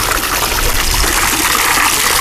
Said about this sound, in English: you can see the water coming out the backside as well.